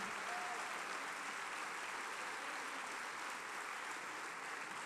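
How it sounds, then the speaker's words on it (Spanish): A concert audience at a New Year's symphonic band concert applauds a tenor soloist, with steady uniform clapping heard from a distance and fairly faint throughout. "Un fuerte aplauso para él."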